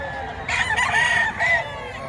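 Roosters crow in loud, drawn-out bursts over a steady background of chickens clucking at the Padre Garcia auction market, with two main crows close together and a shorter one after.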